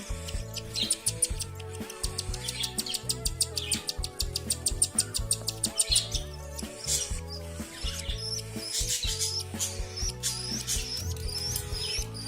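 Twelve-day-old baby cockatiel chicks chirp loudly and persistently while being hand fed, a rapid stream of high, scratchy peeps heard close up.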